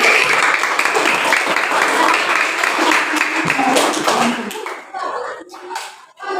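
Classroom students clap for a presenting group, a loud burst of applause that thins out toward the end, with voices coming in as it fades.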